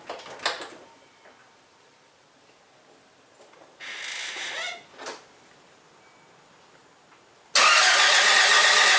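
A Toyota 1.6/1.8L engine with an oil-burning problem in a 1996 Geo Prizm cranks in a garage, with two short failed attempts and quiet gaps before it catches and roars loudly into a steady run.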